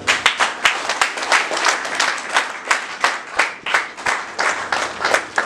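An audience at an interfaith conference in Lomé applauds in rhythmic, fairly steady clapping with regular swells, moderately loud and close, with no talking.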